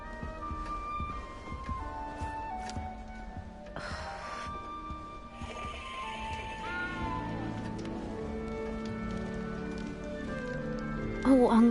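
A frightened cat meows in Hogwarts Legacy, a few plaintive calls heard up close against a soft patter of rain, with voices talking and game sounds layered over it.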